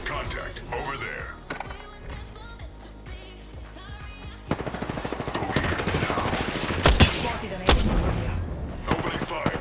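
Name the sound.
gunfire in the video game Apex Legends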